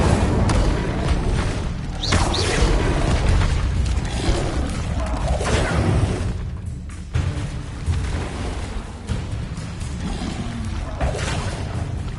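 A fire spell cast in the video game Hogwarts Legacy: a sustained, loud roaring whoosh of flame bursts that swells and recedes over several seconds, with a dense rumbling body throughout.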